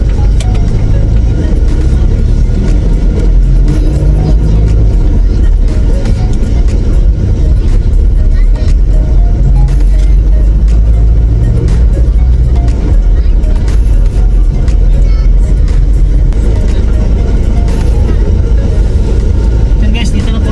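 A car driving slowly through a coffee shop and restaurant area while looking for a parking spot, with a steady loud engine and road rumble throughout and no clear talking.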